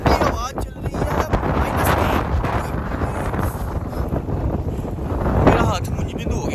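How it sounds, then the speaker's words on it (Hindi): Cold wind blows hard across a microphone outdoors in Iceland, a constant rushing roar with gusty buffeting that continues throughout. "आइसलैंड वापस आए तो इतनी ठंडी हवा चल रही है"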